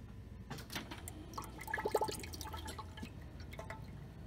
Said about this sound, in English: See that water swishing round in there?